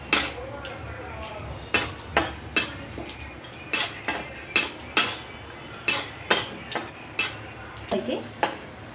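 Raisins roasting with almonds and cashews in ghee in a metal pan, stirred with a spoon that scrapes and clinks in a steady rhythm about twice a second over a light sizzle.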